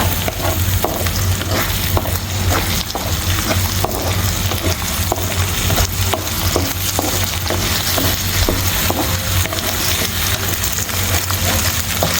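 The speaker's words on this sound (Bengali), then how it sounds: "একটু লবণ দিয়ে ডিমটা আমি একটুখানি ভেজে নিচ্ছি।" Five eggs frying with a little salt in a pan, a loud continuous sizzle with scraping stir strokes at irregular intervals, close up and with no talking.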